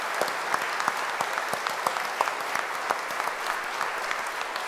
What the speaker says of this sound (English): just join me now in applauding what they have done.